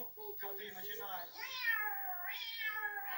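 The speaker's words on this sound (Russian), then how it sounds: "Каждую весну коты начинают." Cats meow in spring with drawn-out, rising and falling wails, several close calls following one another over a quiet background.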